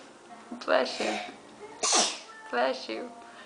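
A child sneezes several times in quick succession at close range, sharp bursts mixed with small vocal sounds and breaths between them.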